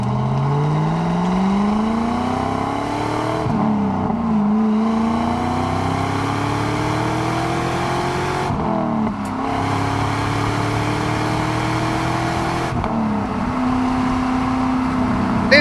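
A 2002 Pontiac WS6 with an LS1 V8 and six-speed gearbox pulls hard on a test drive, the engine note rising through each gear, dropping briefly at the shifts, then climbing again. It is loud and close, with no talk over it.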